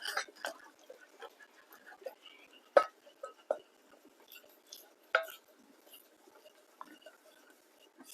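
A spoon stirs a butter and flour paste in a pan on the hob, making light, irregular scraping and tapping knocks with brief pauses. The sound is close and fairly quiet.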